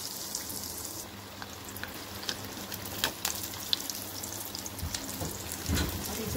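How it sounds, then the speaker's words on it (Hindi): Potato cheese balls deep-frying one by one in a pan of hot oil, a soft continuous bubbling hiss with scattered faint pops, fairly quiet throughout. "अब हम इसे एक एक करके फ्राई करेंगे."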